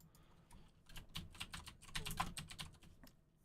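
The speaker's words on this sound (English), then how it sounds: "I can type in the name of a planet now, and it doesn't lag when I'm typing" Fingers type quickly on a computer keyboard, a soft, steady patter of key clicks close by and faint, with no voices.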